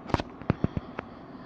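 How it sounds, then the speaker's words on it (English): Crackling fire in the Fallout Shelter video game, heard as a quick burst of sharp pops and crackles, a handful of distinct snaps spread over a second or so with no talking. "Oh my god, the fire is spreading."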